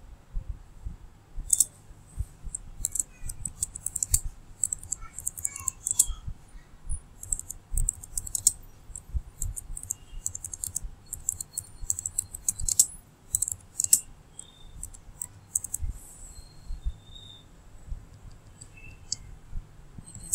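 A computer keyboard clatters with steady, fast typing as a description is written, a dense run of close, crisp key clicks with short pauses between bursts.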